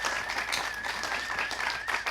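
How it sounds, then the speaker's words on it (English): A small audience claps at a music program taping, quick overlapping hand claps under a faint sustained tone, brief and fairly even throughout. "Let's give them a little round of applause."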